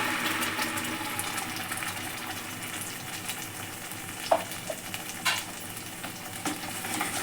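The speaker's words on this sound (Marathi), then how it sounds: "हा आता त्याच्यामध्ये ओतून फोडणी देऊ त्याला" Spiced tempering poured into mango kadhi gives a steady soft sizzle and bubbling. A few sharper clinks and stirring knocks sound close by, with no talk.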